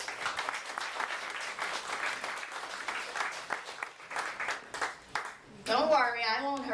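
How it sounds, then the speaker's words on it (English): An audience at a talk gives a round of applause, a lively patter of many hands that thins out after about five seconds, followed by a voice speaking near the end. "Give her a round of applause, please"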